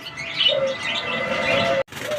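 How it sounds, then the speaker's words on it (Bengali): A pair of white Australian doves with a chick, chirping and tweeting at close range in a few short calls, with a brief gap near the end. "এইখানে রয়েছে দর্শক এক জোড়া সাদা কালার অস্ট্রেলিয়ান ঘুঘু দেখেন বাচ্চা সহ আছে"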